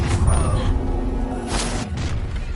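Confringo fire spell cast in the Hogwarts Legacy video game, a dense rumbling blast with crackling bursts layered over a steady game soundscape.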